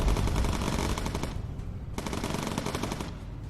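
In the video game Bomber Crew, USAAF bomber turret machine guns fire two dense, rapid bursts. The loud rattling barrage is separated by a short pause and plays alone with no voices.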